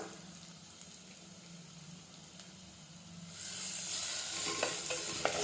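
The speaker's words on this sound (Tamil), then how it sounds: "வெங்காயம் நல்லா எண்ணெயில் வதங்கட்டும்" Onions sizzling in hot oil, a low steady fry that swells into a bright, loud hiss halfway through, with occasional stirring scrapes.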